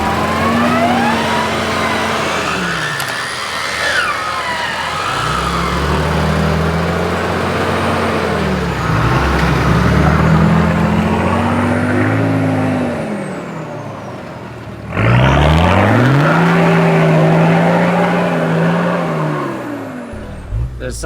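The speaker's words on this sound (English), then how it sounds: "the ruts are deep, I'm dragging diffs and it's very slippery out here." A 4WD on 35-inch tyres revs hard through deep, slippery ruts while dragging its diffs, with loud engine surges rising and falling in several pushes close by.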